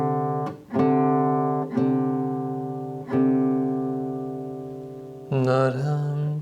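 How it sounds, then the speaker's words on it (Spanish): A pair of sustained tones a major second apart rings out together, restruck several times with slow decays, then a brighter chord-like sound enters near the end; no talking. "Escuchemos una segunda mayor."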